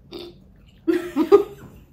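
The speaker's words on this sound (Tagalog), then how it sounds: "Habang umunguya nga ako, umutot ako sa bunganga ko." A single wet burp while chewing a homemade donut, close and fairly loud, a short low eructation followed by a couple of throaty bursts in an otherwise quiet room.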